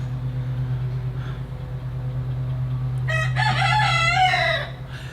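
A rooster crows once at a bonsai pruning and repotting session, the loud harmonic call rising and holding for about two seconds near the microphone over a steady low electrical hum, with no talking.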